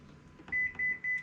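Three short, evenly spaced electronic beeps from an oven timer being set, clear and close, with no talking.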